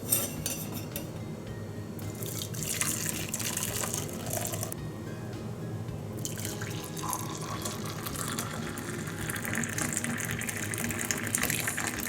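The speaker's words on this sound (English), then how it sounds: "So now I am straining the milk." Hot turmeric milk is poured through a strainer in a kitchen, a steady close gush of flowing liquid that shifts in tone as the pour changes, with light clinks of the utensils.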